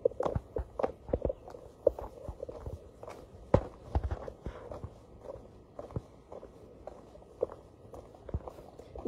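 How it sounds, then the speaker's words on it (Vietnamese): Footsteps of a visitor climbing up toward the Tam Chúc pagoda, a steady series of close, distinct steps on hard ground, some heavier thuds mixed in. "Đang leo lên chùa."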